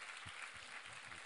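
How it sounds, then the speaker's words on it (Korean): A church congregation applauds together, a steady dense wash of clapping that holds evenly throughout, fairly distant and soft, with no voices over it. "우리 하나님께 감사와 영광의 박수를 올려드리겠습니다."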